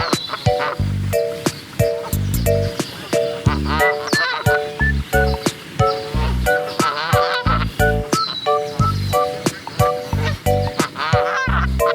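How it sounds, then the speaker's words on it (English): Domestic goose honking over and over in a quick, uneven series of loud, nasal calls that carry on without a break, close and clear with no other sound. "Goose."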